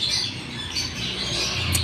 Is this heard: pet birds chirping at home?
yes